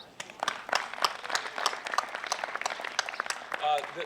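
Audience applause at an outdoor climate festival, a moderate patter of clapping from a small crowd that rises and fades over a few seconds, with some voices mixed in.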